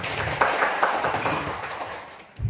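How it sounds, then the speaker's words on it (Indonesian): An audience at an Islamic religious talk for prospective umrah pilgrims claps together, a dense steady patter that fades toward the end before a low thump. "Tepuk tangan untuk Bapak Ibu"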